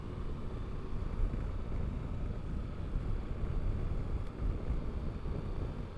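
Steady roaring wind rushes past a rider on a 2023 Triumph Tiger 1200 GT Pro motorcycle at speed, a dense continuous low buffeting with no talk.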